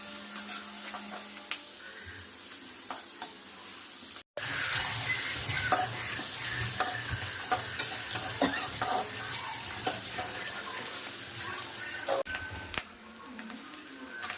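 Food sizzles and fries in a pan on a home stove while a spoon stirs and scrapes it in repeated bursts. The frying is steady and close, and a short cut breaks the sound partway through.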